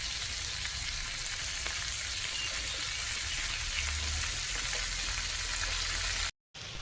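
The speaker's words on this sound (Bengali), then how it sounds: "এবার এটা আমি বাঁধাকপিটা দিয়ে দেবো।" Cabbage and vegetables fry in a pan with a steady, hissing sizzle that holds an even level, then drops briefly to silence near the end before resuming.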